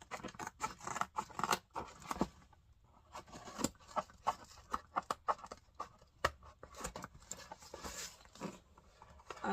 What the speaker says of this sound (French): Je prends une paire de ciseaux